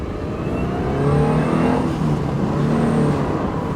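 An old car drives along with a steady engine hum and some light revving, a continuous close drone with no voices over it.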